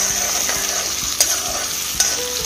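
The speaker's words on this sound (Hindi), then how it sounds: "अभी इनको भी हम थोड़ा सा भून लेंगे घी में" Green chillies and ginger sauté in hot ghee for a halwai-style potato gravy, producing a loud, steady sizzle with occasional scraping strokes of a stirring spoon, and no voices.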